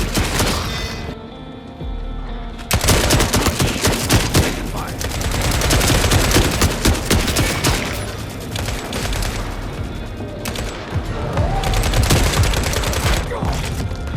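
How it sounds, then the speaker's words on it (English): Gunfire from the video game The Forever Winter, with dense bursts of shots and booms over a busy game soundtrack, loud and continuous through the raid. "firing my gun twice"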